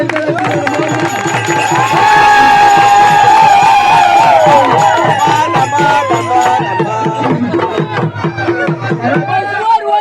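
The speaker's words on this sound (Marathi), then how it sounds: "दादा सर्वांनी टाळ्या वाजवा" A crowd at a Holi tamasha folk theatre show in Kharepatan, Konkan, claps and cheers steadily and loudly, with a dense rhythmic patter of hands under a voice speaking or singing throughout.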